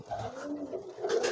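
A pigeon coos in low, rolling throaty bursts close by, a soft warbling call repeated across the short moment without speech.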